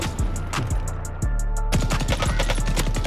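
A Bren light machine gun in a video game fires rapid, loud bursts of sharp shots that stutter briefly, then resume in a fast steady run.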